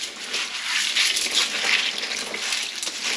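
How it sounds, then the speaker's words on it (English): Cold tap water gushes and splashes over dried yellow split peas in a colander, a continuous close hissing rinse that swells and eases slightly, with no voices. "Pop them into a colander and put them under cold water to give them a good wash."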